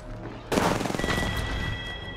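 Gunfire in the Apex Legends video game: a sudden loud burst of rapid shots after a quiet moment, then continuing bursts with ringing tones trailing behind.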